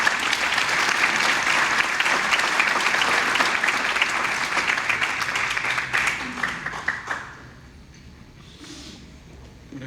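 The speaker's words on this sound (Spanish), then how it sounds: "Recibámoslo por favor con un aplauso" A room full of people claps steadily for several seconds, then the applause thins out and fades to a quiet murmur.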